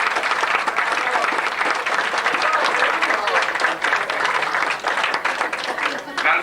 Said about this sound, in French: Et on applaudit encore notre ami là.